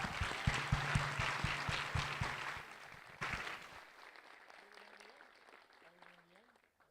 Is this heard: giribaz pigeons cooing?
no